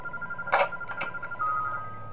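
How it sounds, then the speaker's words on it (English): Phone in the video game Those Nights at Wario's 3 being called from a camera: short electronic beeps and a dial-style tone, then a steady ringing tone, faint over quiet game ambience. "we're calling the phone in Cam 14 to hold Bowser off"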